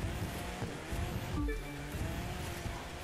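A BMW Z4 M40i in The Crew 2 racing game, a steady mid-level engine drone with a short rising rev near the middle, heard without talking.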